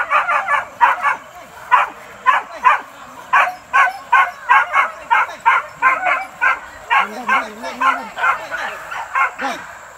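Hunting dogs bark rapidly and continuously in a rhythmic chorus of close, loud yelping barks, with a brief voice faintly underneath partway through.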